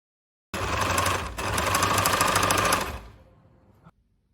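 Sewing machine stitching in the ditch along a trouser waistband, a fast continuous mechanical whirr starting abruptly, briefly pausing, then running steadily before slowing and stopping with a final clunk, close and loud, no talking.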